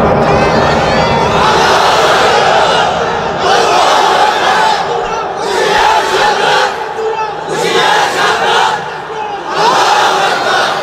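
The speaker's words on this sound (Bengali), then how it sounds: "এবার দাও তাকবীর" A large crowd at an Islamic sermon gathering roars the takbir, Allahu Akbar, in loud, sustained unison shouts that rise and fall in several waves, filling the whole stretch.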